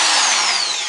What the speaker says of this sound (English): And drill a hole in right there.